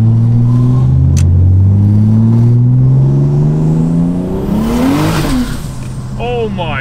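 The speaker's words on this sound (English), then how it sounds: "We're now gonna take the E-Series Falcon for a little bit of a drive." Ford Falcon E-Series car with new, wider tires driving hard, engine revving up through gears with a loud rising drone, a brief tire squeal and a voice near the end.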